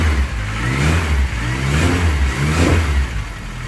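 A classic Mini's engine revs nearby, several quick throttle blips rising and falling over a steady idle, loud and alone.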